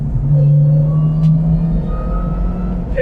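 A cheap used performance car's engine rumbles deep and steady at close range, with a slight rise and fall in pitch as it runs, and no talking over it.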